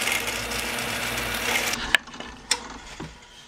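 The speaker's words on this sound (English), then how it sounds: "we'll use a 13/64 drill bit and do it the same way" Drilling holes with a 13/64 bit into a wooden table saw throat plate: a steady whirring grind through wood that cuts off, followed by a few sharp knocks and clatters as the drill and workpiece are handled.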